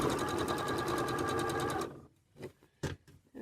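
A sewing machine stitches a fabric bucket hat with a fast, even mechanical whir for about two seconds, then stops, followed by a few soft clicks and handling knocks up close.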